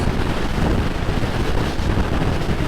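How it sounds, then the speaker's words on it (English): Strong wind buffets the microphone during a motorcycle ride as it blows down a valley, a dense, steady roar loud and close with no talking. "you're constantly fighting with this massive wind coming down the valley up there"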